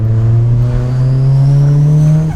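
A turbocharged Mitsubishi Lancer accelerates hard in first gear, its engine note climbing steadily in pitch as it revs, loud and close throughout.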